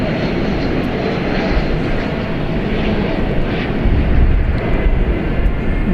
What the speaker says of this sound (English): we'll catch this plane coming in from Los Angeles.